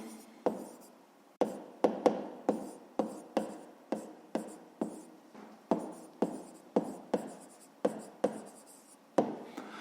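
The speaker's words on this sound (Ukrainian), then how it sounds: "Ну що, записуємо відповідь" A pen writes out a math answer on paper in a steady series of crisp, close taps and short strokes, repeating about twice a second with no talk.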